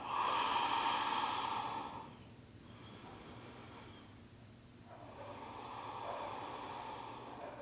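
Slow, deep breathing during a prenatal yoga hold, with soft airy inhales and exhales close to the microphone, quiet and unhurried, with no talking.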